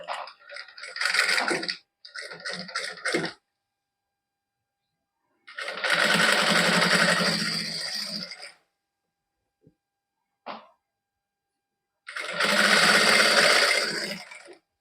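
Home sewing machine with a size 16 needle stitching heavy velvet suit fabric, running in several close, loud whirring bursts of a few seconds each, separated by silent pauses and a brief click.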